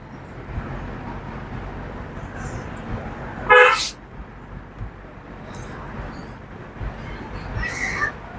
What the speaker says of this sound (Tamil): முடிஞ்சா ஹார்ன் அடிங்க